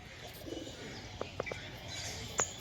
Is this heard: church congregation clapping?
no